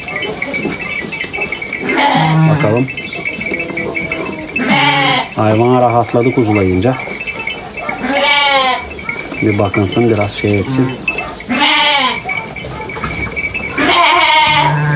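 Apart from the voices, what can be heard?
sheep bleating after lambing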